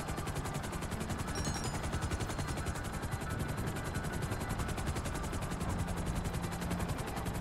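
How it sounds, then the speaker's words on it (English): A helicopter armed with homing missiles and miniguns flies in a video game, its rotor throbbing in a fast, steady, loud rhythm throughout. "It's actually the only heli that I've got with missiles or even miniguns."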